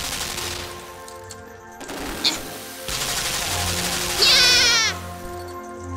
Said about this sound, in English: I have to make the turret shoot the other one